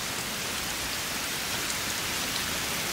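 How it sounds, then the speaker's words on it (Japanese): Heavy rain pours down steadily, a dense continuous hiss of drops striking surfaces close by, with no voices and no thunder. "この雨じゃ傘さしても意味ねえか。"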